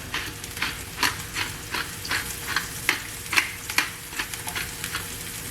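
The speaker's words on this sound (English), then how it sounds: "Get a nice sizzle" Wild spring mushrooms sizzle in olive oil with pepper, a steady frying sizzle with soft crackles and occasional stirring scrapes, close and moderately quiet, no talking.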